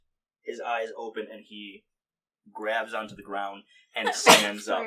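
A sharp, loud sneeze bursts out at the end of calm storytelling speech during a tabletop game session, clearly louder than the surrounding talk.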